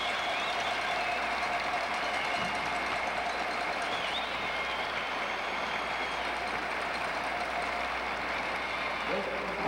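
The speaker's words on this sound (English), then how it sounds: "Listen to this crowd." A crowd roars continuously at a senior dance competition, a dense, even wash of cheering and clapping that holds without a break.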